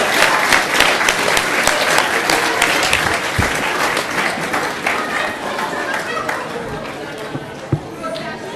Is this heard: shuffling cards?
no